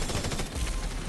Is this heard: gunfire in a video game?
yes